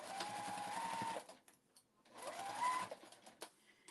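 Sewing machine stitching a memory bear, running in two steady bursts with a short pause between, close and clear with no talk.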